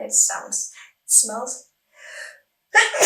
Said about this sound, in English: apparently a sneeze was coming